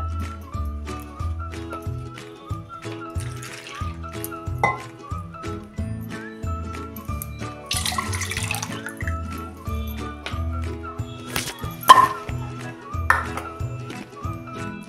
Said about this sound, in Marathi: त्यामध्ये पाणी टाकून हे चोळून असे चांगले धुवून घेऊया